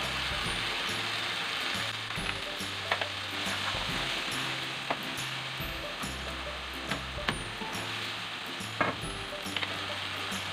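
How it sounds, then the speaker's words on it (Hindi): Brinjal bharta frying with yogurt in a pan, a soft steady sizzle with light scraping and clicking of a spatula stirring at irregular intervals, fairly quiet throughout. "दही डाल के भी इसको मैं भून लूँगी अच्छी तरह से"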